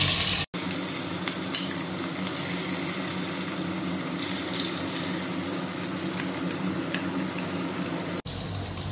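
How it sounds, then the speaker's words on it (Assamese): Fish frying in hot oil for an Assamese fish curry with ridge gourd, a steady crackling sizzle that runs unbroken at close range and fairly loud, briefly cut near the start and again near the end, with no talking. "মোৰ তেলখিনি গৰম হৈ গ'ল আৰু এতিয়া মাছখিনি ভাজি লওঁ।"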